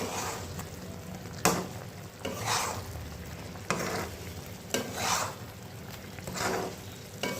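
Food fries in a pan with a constant nearby sizzle, broken every second or so by scraping strokes of a spoon stirring it, with no voices.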